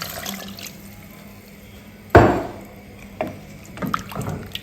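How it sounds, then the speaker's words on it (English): Water splashes into a pot of goat meat pepper soup, a sudden close pour followed by a few smaller sloshes and clinks, with no talking. "So I'll go ahead and add some water to it."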